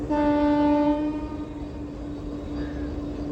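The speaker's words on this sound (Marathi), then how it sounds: "त्या साईडने म्हणजेच इगतपुरी साईडने एक मालगाडी येते" A goods train near Kasara Ghat sounds a loud, sustained horn blast for about a second, then its heavy rolling rumble continues close by.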